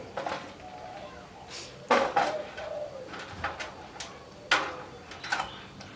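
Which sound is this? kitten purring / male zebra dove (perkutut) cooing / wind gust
male zebra dove (perkutut) cooing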